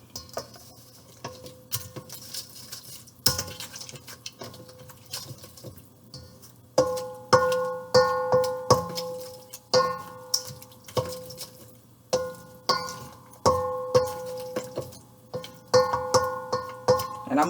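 Kabocha squash stuffing stirred with a quarter teaspoon of salt: irregular clinks and scrapes of a utensil against a bowl, growing busier and more rhythmic partway through.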